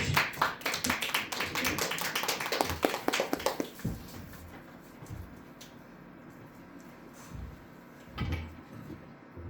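A church congregation claps briskly for a few seconds before the applause dies away, followed by a quieter hall with scattered thumps and shuffling as the pastor prepares to speak.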